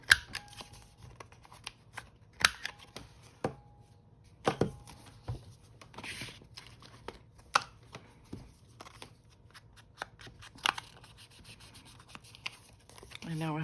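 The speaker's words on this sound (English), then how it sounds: "We'll punch out the edges." A handheld corner punch clicks and crunches through paper edges in scattered, close, fairly quiet snaps, with soft paper rustling and handling between the cuts.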